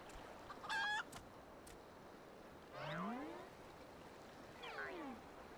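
Clucking chicken sounds from Enkidu, the chicken in the video game Final Fantasy XIV, come as a few soft, separate squawks and warbling calls spread over several seconds, fairly quiet against a faint background.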